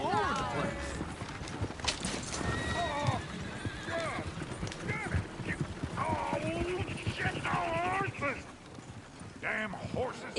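Horse hooves clip-clop at a trot in the video game Red Dead Redemption 2 while horses whinny repeatedly, with busy background noise and occasional yipping.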